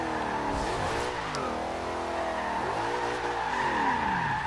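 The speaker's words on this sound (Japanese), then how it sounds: "ドリフト" Car drifting in the racing video game Forza Horizon 2 on Xbox One, a steady loud engine drone with rising and falling revs and sustained tire squeal across the whole stretch, no talk over it.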